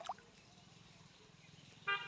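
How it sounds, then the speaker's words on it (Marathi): A four-wheeler horn fitted on a two-wheeler honks once near the end, a short tonal blast over a quiet, rainy background with faint distant murmur. "4 व्हीलरचं हॉर्न लावलेलं,"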